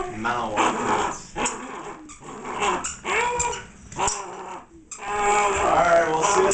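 A Malinois police K9 puppy growls and snarls in repeated bursts close by. A person speaks over part of it.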